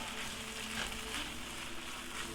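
Chorizo frying in a pan gives off a steady, close sizzle with crackling spatter. The hiss holds at an even level throughout, with no voices.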